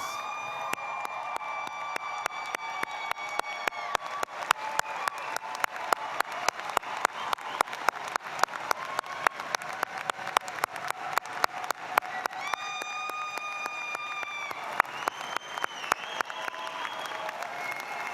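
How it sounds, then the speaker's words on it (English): A commencement crowd gives graduates a long, sustained round of applause, with sharp claps standing out above the dense wash and occasional cheers or whistles rising through it. "give that well-deserving graduates another round of applause"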